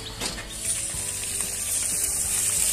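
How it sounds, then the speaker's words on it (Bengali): A fish head fries in a pan of oil for a home-cooked fish curry, giving a steady close-up sizzle with faint crackles throughout and no talking. "মাছের মাথাটা ভাজা হচ্ছে"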